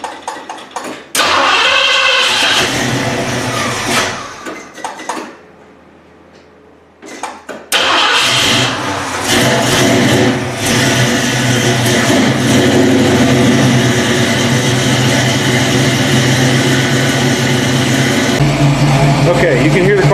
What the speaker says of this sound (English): Okay, you can hear the cars running.